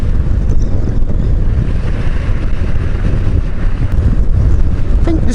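Loud, steady wind roar buffets the microphone while a Yamaha XJ900S Diversion motorcycle is ridden at speed on the road, a constant rushing blast with no breaks and the engine buried beneath it.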